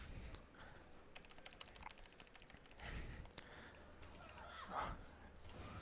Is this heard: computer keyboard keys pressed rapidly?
yes